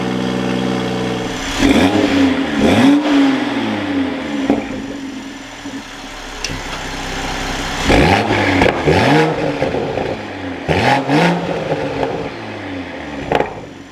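A stock-exhaust manual Toyota Supra fitted with a high-flow catted downpipe revs in repeated bursts, each rising and falling loudly over a steady idle, three main throttle blips spread across the stretch with no talking.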